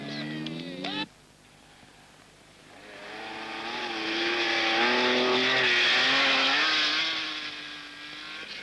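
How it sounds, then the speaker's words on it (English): Rally cars, including a Fiat 124 Spider, race on a special stage of a 1970 rally near Gothenburg, Sweden. A loud engine roars with a rising and falling revving tone as a car sweeps past, then fades. "A Fiat 124 Spider, unusual in this kind of rally, is close behind."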